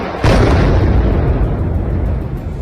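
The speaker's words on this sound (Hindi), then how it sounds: "वीडियो में पहले धमाके की आवाज सुनाई दी" A single loud, close explosion from a drone attack on Kyiv, a sudden blast that rumbles and decays for a couple of seconds with no voices.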